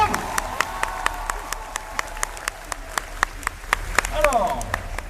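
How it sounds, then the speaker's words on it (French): A talk show studio audience claps in a steady rhythmic beat for several seconds, the sharp claps fairly close, with voices talking over them. "On peut l'applaudir."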